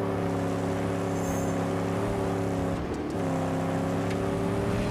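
A Mad Max car engine drones steadily at constant revs, loud and close, with a brief dip around the middle before resuming its even hum.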